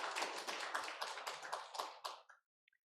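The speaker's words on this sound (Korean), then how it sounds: "우리 뜨겁게 박수로서 환영하도록 하겠습니다." A church congregation claps in welcome for a pastor's wife during a Sunday morning service, a burst of dense hand claps lasting about two seconds before fading out, with a couple of faint taps trailing after.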